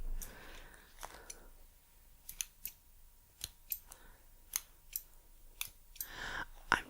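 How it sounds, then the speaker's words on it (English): Heavy-duty scissors snip hair close up in a quiet room, a series of crisp, separate cuts spaced irregularly at roughly half-second to one-second gaps, with faint rustling between them. "I have some scissors here, some heavy duty ones."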